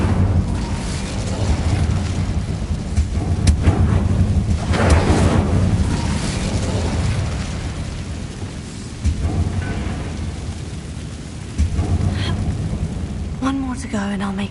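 Fire spell blasts cast in the Hogwarts video game, heard as loud rumbling booms and whooshing bursts amid a dense game soundscape, with a voice speaking over them.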